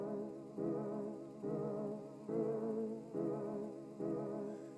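Dreamy piano chords run through an RC20 sad piano preset, each chord swelling in with a soft wobble and lingering, five gentle repeated hits in a quiet, slightly pitch-warped loop.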